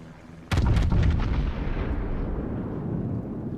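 Yamato-class battleship main gun turrets firing in World of Warships: a loud, sudden deep boom, then several quick blasts close together, fading into a long rumbling roar with no talk.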